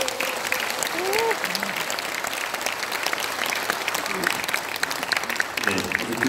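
A lecture audience gives sustained applause in a dense, steady patter of many hands, with a voice speaking over the clapping at intervals.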